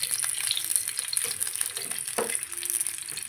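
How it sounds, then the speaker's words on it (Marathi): Halved boiled eggs fry in oil in a pan for an egg biryani, a close steady sizzle with light rattling and stirring scrapes, no talk. "आपल्याला अंडे हे फ्राय करून घ्यायचे सहा अंडे घेतलेले आहेत मी फ्राय करून घेऊया"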